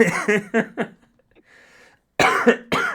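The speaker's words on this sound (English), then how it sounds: "you gotta make me cough my lungs out" A couple of sharp, close coughs break out near the end, after a stretch of people talking and a quiet pause.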